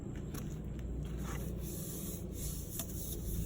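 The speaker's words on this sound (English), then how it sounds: "So now it's time to go through and scuff up the rest of the wheel." An Infiniti G37 car wheel is scuffed up ahead of being painted black, producing a faint, continuous close-up rubbing and scraping with a few slightly sharper strokes.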